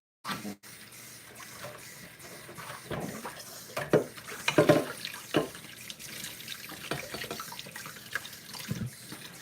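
Kiwis rinsed under running water from a hose, a steady close splashing stream with drips and bursts as the fruit is turned in the flow, heard alone without talk.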